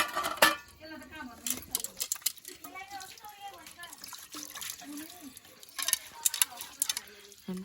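Pots and dishes are scrubbed and rinsed in a Nepali village kitchen: sharp metallic clinks and clatters sit among splashing water, close by, while people talk throughout.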